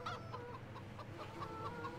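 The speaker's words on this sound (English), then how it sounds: "What's up, my chickens? Got more eggs for me?" Chickens in the farming video game Farming Simulator 17 cluck in a steady, repeated rhythm, faint and continuous over a low background hum, with no talking.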